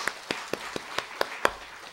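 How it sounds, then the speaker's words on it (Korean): Sharp, separate hand claps ring out at a Korean Wednesday church service, about seven evenly spaced claps over two seconds with quiet between them. "하나님께 영광의 박수 올려드립니다"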